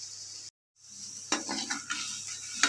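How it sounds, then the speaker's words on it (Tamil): Sizzling of food sautéing in hot oil in a pan for a Tamil leaf chutney, a steady hiss broken by a brief pause, then scraping stir clinks near the close. "இந்த மாதிரி நல்லா வதக்கிக்கோங்க."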